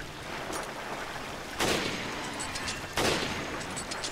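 Two rifle shots in Resident Evil Revelations, sharp loud cracks spaced about a second and a half apart, each leaving a short echoing tail over quiet game ambience.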